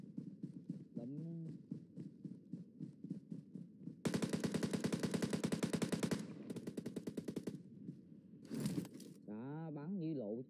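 Rapid automatic gunfire from a battle royale game on the Sanhok map, a dense burst of shots around the middle of the clip, with a short later burst, while someone talks throughout and music plays.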